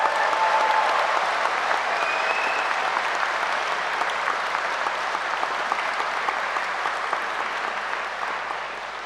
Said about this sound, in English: So give yourself another round of applause for that.